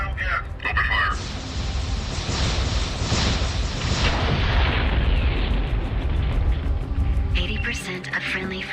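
Gunfire and explosions from a watched action video, a dense, loud rumble of blasts and rapid bursts sustained for several seconds before cutting off, with a voice speaking over it.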